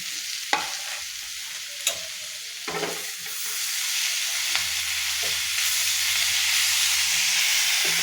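Three tomatoes tipped into a pan of reddish-browned onion for a mutter paneer gravy, frying with a steady sizzle and hiss while a spoon scrapes and stirs in a few distinct knocks, close and continuous with no talk.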